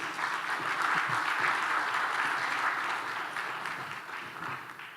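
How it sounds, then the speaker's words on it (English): A conference audience at a CEO summit in Ghana applauds steadily as a panel takes their seats, a dense, continuous wash of clapping from a large room that slowly tapers off. "Please cheer them on as they take their seats."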